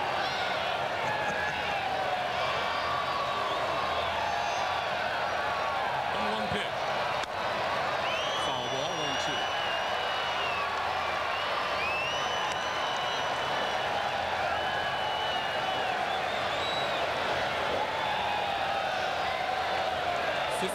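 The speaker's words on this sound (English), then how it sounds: "a sellout crowd here at Fulton County Stadium" Sellout baseball crowd at Fulton County Stadium during the 1995 NLCS Game 4 between the Reds and Braves, a steady, distant roar of voices and scattered cheers running continuously under a commentator's talk.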